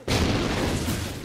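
A grenade blast in the online multiplayer shooter Call of Duty Ghosts hits suddenly as one loud, broad boom, then holds as a rumbling roar for about a second.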